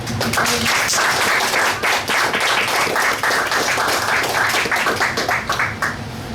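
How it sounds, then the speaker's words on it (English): Supporters clap in a round of applause at a Cinco de Mayo campaign event, dense close hand claps sustained for several seconds with uneven bursts and a slight fade. "just a round of applause for everybody"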